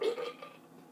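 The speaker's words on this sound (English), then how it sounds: "I'm going to get off here because I be burping out." A single loud, close burp after drinking soda in a no-burping challenge, rough and voiced, trailing off quickly into quiet.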